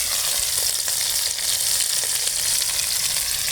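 Silver carp pieces fry in a village kitchen's iron wok over a wood-fired stove, a steady, loud, crackling sizzle that holds evenly throughout with no voices.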